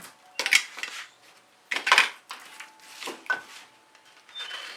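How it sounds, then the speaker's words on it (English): A small scrape dish is picked up and set down amid acrylic paint supplies, giving several distinct clinks and hard clattering knocks in bursts, close and fairly loud, with brief pauses between. "I'm going to grab myself a little scrape dish."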